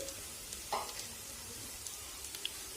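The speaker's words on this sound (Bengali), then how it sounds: "এই সময় আমি অল্প কেটে রাখা পেঁয়াজ আর কুচিয়ে রাখা লঙ্কাগুলো দিয়ে দিচ্ছি।" Onions and chopped green chillies sizzle and fry in a pan with half-fried potatoes for potato and flour patties, a steady faint crackle with a few soft stirring clicks and no talk.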